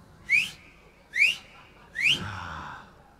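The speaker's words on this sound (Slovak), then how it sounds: "Ako odpoveď sa ozvali ďalšie tri zapísknutia." Three answering whistles, short rising human whistle calls spaced evenly about a second apart, moderately loud and slightly distant, the last trailing into a faint low rumble, with no voices.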